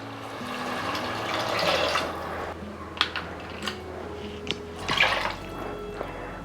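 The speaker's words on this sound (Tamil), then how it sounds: "ஒன்றரை டம்ளர் அளவுக்கு தண்ணி விட்டுட்டேன்" Water is poured into a pressure cooker of rice for egg biryani: a steady, close splashing pour with a few sharper drips and clinks, and no talking.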